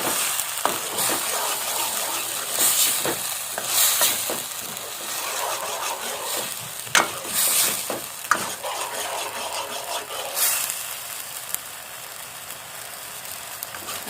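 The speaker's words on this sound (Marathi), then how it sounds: "आता हे व्यवस्थित परतून घ्यायची तेल सुटापर्यंत" Prawn masala with tomato, frying steadily in oil in a home Malvani kitchen as it is stirred, giving a continuous close sizzle with occasional scraping stirs and sharper spatters.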